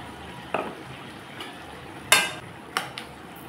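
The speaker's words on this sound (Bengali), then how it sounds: "মশলার সাথে ভালোভাবে টমেটোটাকে মিশিয়ে নিলাম" Tomato paste stirred through vegetables and spices in a pan, with a few scattered scrapes and clinks of a spoon against the metal over a soft background sizzle.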